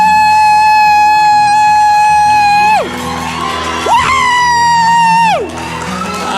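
A youth and teens church congregation whoops and cheers in loud, sustained rising and falling shouts, in two long waves close by.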